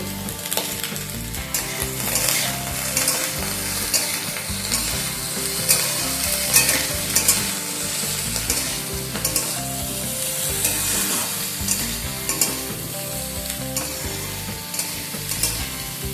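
Cauliflower stalks and mixed vegetables frying in a pan, with a loud, continuous sizzle and rhythmic scraping and clattering as they are stirred, close up and steady throughout, with nobody talking.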